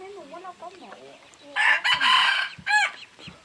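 A wild rooster in the forest crows once, clear and fairly close, after some bird calls and chirps. A few other clucking sounds follow, with light background chatter.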